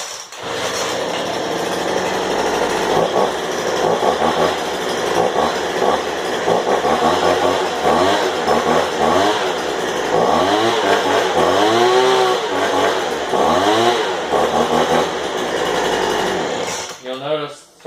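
A modded Craftsman 25cc leaf blower engine is started cold indoors. It roars loud and close, its pitch sweeping up and down as the throttle is revved repeatedly, then cuts off abruptly at the end.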